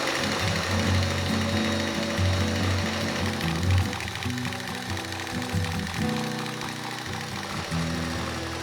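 An electric hand mixer whirs steadily and loudly as it creams shortening on its own for pumpkin cookies, a continuous mechanical drone that shifts pitch slightly as the beaters work through the fat, with no talking.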